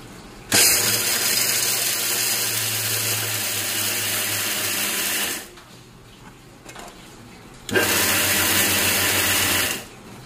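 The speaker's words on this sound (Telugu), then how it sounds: "ఇంకా దీనిలో వేసుకున్న తర్వాత మిక్సీ పట్టిస్తే పల్లి చట్నీ అయితే రెడీ అయిపోద్ది." A mixer grinder grinds peanut chutney in two loud, steady bursts: a long whirring run, a brief quiet pause, then a second shorter run, with no talking.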